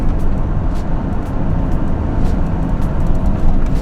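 Dense road traffic hums steadily around a horse lorry stuck in a jam, a continuous low rumble of cars, buses and trucks with occasional faint higher swishes of passing vehicles, close and unbroken throughout.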